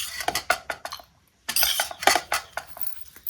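A spoon scrapes and clinks against a dish while scooping out a mixture, a quick run of close metallic taps and scrapes, a short pause, then another busy burst of scooping.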